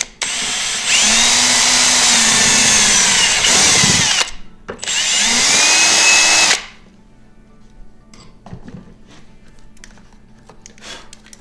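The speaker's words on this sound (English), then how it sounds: "I'm gonna have to drill my hole. 1/4 inch drill bit." Two loud bursts of a close power drill whirring with a 1/4 inch bit into a ski, a brief gap between, followed by quiet clinking and handling noises.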